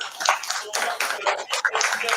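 An audience at a fintech summit breaks into applause, a brief, moderately loud patter of many hands clapping at once, with some talk mixed in.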